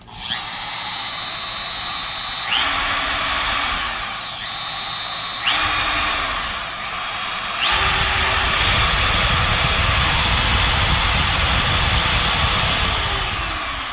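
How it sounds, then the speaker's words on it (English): A Makita trim router motor runs steadily at close range, a loud continuous electric whine with steady high tones that shift pitch several times as the speed changes, rising in pitch and intensity near the end. "this Makita. It sounds more like a servo motor."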